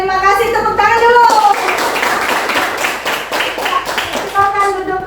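Classroom children clap their hands after singing a patriotic song, a loud burst of mixed clapping and tapping that follows sung voices, with children's singing returning near the end.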